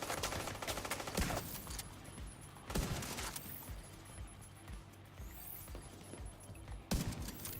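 Gunfire in The Division 2, a video game: several bursts of shots ring out over a busy combat mix, the loudest at the start, middle and end, with no talk over them.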